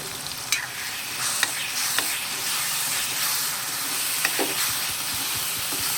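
Salt, chilli powder and turmeric frying in oil for a gongura and prawn curry, a steady close sizzle with a few sharp spatula scrapes and stirs, no voices.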